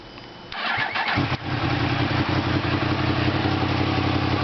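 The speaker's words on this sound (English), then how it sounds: "the main thing I wanted you to hear was the exhaust that I did" A 2017 Yamaha FZ-10 (MT-10) motorcycle engine with a Leo Vince aftermarket exhaust and silencer cranks and starts, then settles into a loud, throaty idle with a deep rumbling exhaust, close up.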